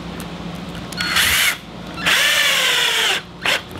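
A power drill drives 3-inch outdoor wood screws into wood while a hexagonal solar parabolic mirror mount is built: three close, loud bursts of whirring motor, the middle one longest, with a brief pause between each.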